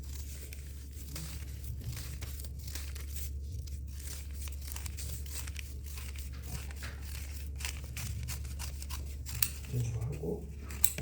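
Scissors snip through paper being cut into jijeon, shaman paper money for a Jindo ssitgimgut ritual, a steady run of close, crisp cuts and rustles through the whole stretch, with a soft low hum beneath.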